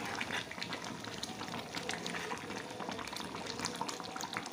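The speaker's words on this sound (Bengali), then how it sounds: "একটু জল দিয়ে দেবো সেদ্ধ হওয়ার জন্য" Water is poured into a wok of goat meat curry, making a continuous bubbling, splashing liquid sound with crackle from the hot pan, moderately close with no voices.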